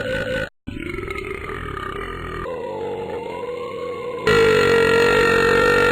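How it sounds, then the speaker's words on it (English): Long, loud cartoon belches from the Shrek Flash game The Battle of the Belch, where Shrek and Fiona compete to out-belch each other; sustained groaning burps follow one after another, with a louder one at the end. "You and Fiona compete to see who can belch the longest"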